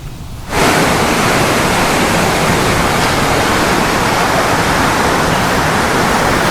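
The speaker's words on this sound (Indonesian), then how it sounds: "Debit air di Sungai Banjir Kanal Barat Ciliwung, tepatnya di pintu air Manggarai, Menteng, Jakarta Pusat, pagi tadi mulai mengalami peningkatan" Floodwater rushes through the Manggarai floodgate on the swollen Ciliwung river in Jakarta, a dense, loud, continuous roar that starts abruptly after a brief quiet moment and holds steady throughout.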